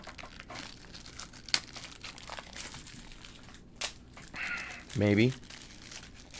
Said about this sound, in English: So we will take the tape off of the base.